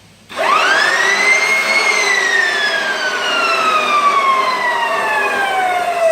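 A floor edger sands a wood floor along a short wall. Its loud, close motor whine rises sharply in pitch as it spins up, then drifts slowly lower while running steadily.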